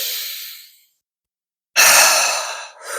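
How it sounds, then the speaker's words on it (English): Cleansing breaths in a calm meditation setting, each exhale released freely as a soft airy sigh, close and clear, with a short silent pause between two breaths. "taking some cleansing breaths where the exhale is released freely"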